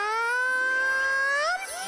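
A cartoon cat gives one long, loud, drawn-out meow with a rising then falling wavering pitch, close and alone, in a Hindi children's ghost cartoon.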